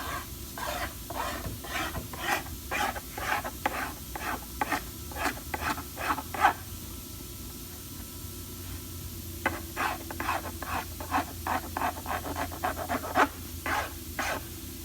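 Hand file worked along the edge of a laminate countertop end cap in quick repeated rasping strokes, two bursts of rhythmic scraping separated by a short pause, close and fairly quiet.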